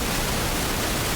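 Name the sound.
white noise from Faceplant noise generator plugin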